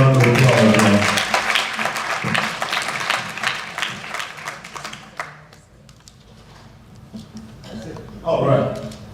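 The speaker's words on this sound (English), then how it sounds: "Let's give Dr. Drake a round of applause" An audience gives a round of applause for Dr. Drake, loud clapping at first that thins out and fades over several seconds before a voice begins speaking.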